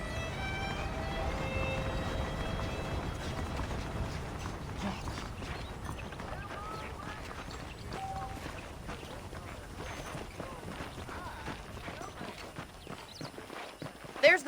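Saddled horses in the Red Dead Redemption video game clip-clop steadily at a walking pace, hoofbeats running throughout under a man's speech and faint background mechanisms, ending with a few louder knocks.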